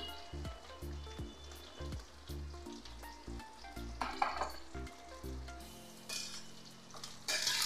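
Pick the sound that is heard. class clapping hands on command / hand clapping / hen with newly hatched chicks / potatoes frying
potatoes frying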